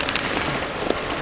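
Steady rain patters on surfaces outdoors at night, a continuous even hiss with a few closer drops.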